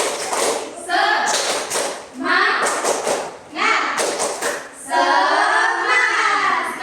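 A classroom group of university students in a peer-teaching session claps the rhythmic tepuk semangat pattern, loud thumping bursts alternating with chanted voices in a lively call-and-response.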